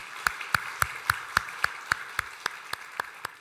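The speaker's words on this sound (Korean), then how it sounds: "우리 박수로 격려하도록 하겠습니다" A church congregation claps together during a Sunday worship service, sharp evenly spaced claps in a steady unison rhythm, moderately loud with no talking.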